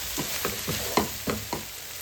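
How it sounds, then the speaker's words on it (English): Chicken pie filling stirred in a pan over high heat, with a steady sizzle and about six distinct scraping stirs spaced roughly a quarter second apart, close and moderately loud, no talking. "give it a stir and cook it on high heat"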